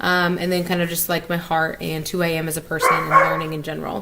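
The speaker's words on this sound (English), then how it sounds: "Oh, sorry about my dog." A pet dog barks a few times in the background while a person keeps talking steadily over it in a home setting.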